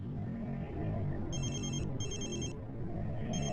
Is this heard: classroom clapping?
no